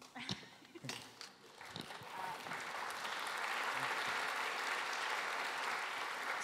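Audience applause at an RSS conference keynote, starting with a few scattered nearby claps and thumps, then swelling into steady, even clapping from the crowd for the last few seconds.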